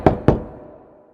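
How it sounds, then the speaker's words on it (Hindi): Two quick, hollow knocks on a wooden door, close and loud, followed by a short fading resonance. "थम्बलीना ने दरवाजा खटखटाया"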